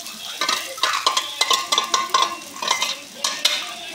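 Soaked sago pearls stirred and fried in a pan for sabudana usal, a close, lively sizzle with quick rhythmic scrapes of a spatula or spoon against the metal pan, repeated steadily throughout; no voice.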